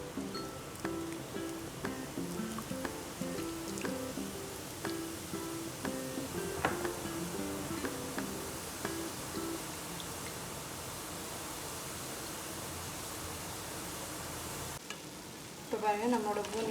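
Kara boondi batter spread from a ladle frying in hot oil, a steady dense sizzle with faint stirring scrapes and a louder burst of bubbling near the end.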